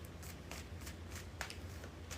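Tarot cards are shuffled in quick riffling bursts, about eight soft flutters in a steady rhythm, close by and alone over a faint low hum.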